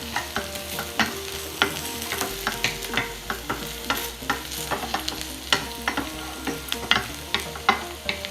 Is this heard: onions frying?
yes